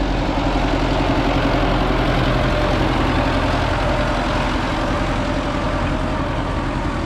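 An MTZ-892 tractor engine pulling a PLN-3-35 plough through autumn ploughing, a loud, steady diesel drone that holds close and unbroken throughout.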